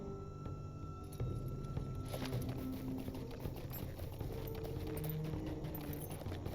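Horse hooves clip-clopping steadily along a path in the fantasy video game Lord of the Rings Online, an even rhythmic patter of fairly faint footfalls set against soft background ambience.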